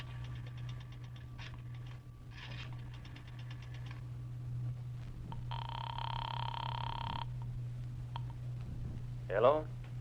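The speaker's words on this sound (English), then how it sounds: "dropped a nickel in the slot, and dialed" Old-time radio drama effect of a nickel dropping into a drugstore payphone slot and a rotary telephone being dialed, with a bright ringing tone in the middle over a steady low hum and a short voice at the end.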